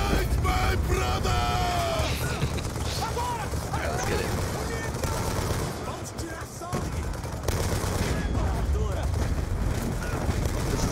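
Rapid automatic gunfire and scattered shots in a Call of Duty: Black Ops II battle, loud and continuous throughout with crashes and yelled voices mixed in.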